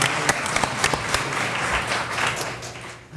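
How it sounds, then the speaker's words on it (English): Moderate applause from attendees at a Hampton school board meeting honoring a boy, his brothers and father, with a few crisp individual claps standing out before it tapers off. "Let's have another round of applause for Ethan, his brothers, and Dad"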